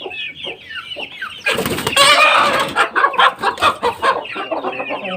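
A rooster clucks repeatedly up close, with a loud burst of agitated squawking in the middle followed by a rhythmic run of clucks.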